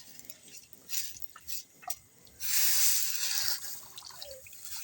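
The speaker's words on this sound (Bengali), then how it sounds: "জলটা কিন্তু ঠান্ডা জল দিয়ে একটু ধুয়ে নিতে হবে।" Cold water poured over boiled noodles in a perforated strainer basket: a few soft clinks and drips, then a loud, steady rush of water for about a second before it tapers to faint trickles.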